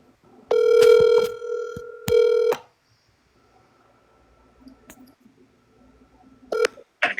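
Telephone ringing tone on an outgoing call, two long buzzing rings with a pause between, then faint clicks and a brief tone burst near the end, with no talk.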